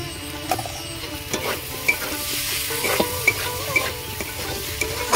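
Ground turmeric, chili, cumin and coriander powder with sugar sizzle in a pan, stirred with a steady series of spatula scrapes and knocks over continuous frying hiss, close and moderately loud.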